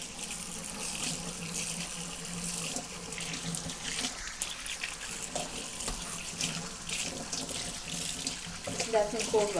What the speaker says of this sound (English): So next I'm going to rinse it well.